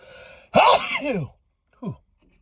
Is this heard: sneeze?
yes